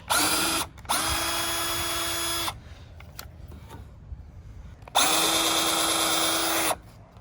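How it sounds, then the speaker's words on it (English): A powered Phillips-head screwdriver removes rubber isolators from a Ram 1500 tailgate, whirring in two long steady runs with a short burst between them and quiet pauses around, fairly close. "we're going to take off these little rubber isolator things. Just a Phillips head screwdriver."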